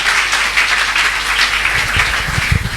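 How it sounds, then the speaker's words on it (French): A church congregation claps together for the Lord during a French-language service, a dense, steady wash of many hands filling the room throughout, with a few louder, closer claps toward the end. "Clap ready for the Lord."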